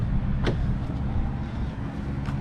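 A 2014 Audi A6 TDI Prestige Quattro diesel sedan setting off, heard as a steady, close low engine and road rumble that holds even throughout, with a faint brief higher whoosh partway in.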